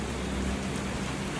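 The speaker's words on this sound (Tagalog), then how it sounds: "Ulan pa more." Steady rain pours down outside a home garden, a dense, even hiss of drops on surfaces with a low rumble underneath, continuous and fairly loud with no voices.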